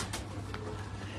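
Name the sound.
pigeon cooing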